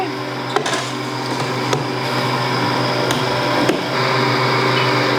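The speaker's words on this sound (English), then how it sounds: "Freeze dryer's rolling." A freeze dryer loaded with gravy, sweet potato pie and turkey runs with a steady, close mechanical hum and whir, with a few faint clicks and knocks over the constant drone.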